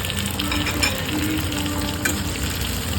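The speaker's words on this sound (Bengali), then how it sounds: "কিশমিশটা যখন তেলের মধ্যে ভাজা হয়ে ফুলে উঠবে তখন আমরা চালটা অ্যাড করে দেবো" Cashews and raisins fry in hot oil for Bengali basanti pulao, a loud, dense, steady sizzle with stirring and occasional crisp crackles.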